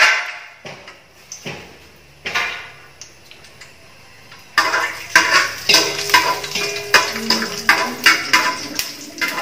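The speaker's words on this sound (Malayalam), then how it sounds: "ഡാൾഡ ചൂടായിട്ടുണ്ട്. അതിലേക്ക് ഒരു 50 ഗ്രാം അണ്ടിപ്പരിപ്പ്" Cashew nuts frying in hot Dalda in a pot for beef biryani: a steady close sizzle that jumps louder midway, broken by regular sharp scrapes and clinks of a spoon stirring against the pot.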